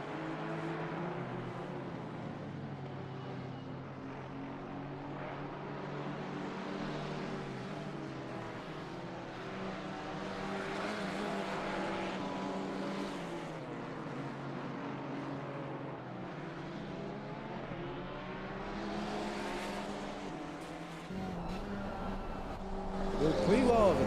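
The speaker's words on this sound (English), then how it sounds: "Two purpose-built race cars." KTM X-Bow and Ginetta G55 purpose-built race cars battle at Snetterton in an RWB GT4 Series race, their engines droning and swelling steadily over about twenty-four seconds beneath continuous commentary.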